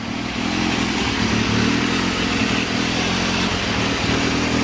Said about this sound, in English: The carb needs a little tuning, and I think I got some dead spark plugs.